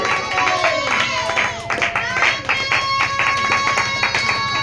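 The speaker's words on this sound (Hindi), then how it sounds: "आमिर बता दे, ताली बजा के।" A Hindi church congregation claps in a brisk, regular beat during worship, the rhythmic hand claps running alongside music and voices from start to finish.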